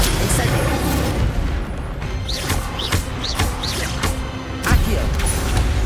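Bursts and booms of Incendio fire spells being cast in combat in the video game Hogwarts Legacy, several sharp hits with whooshing tones over a dense, loud game soundscape.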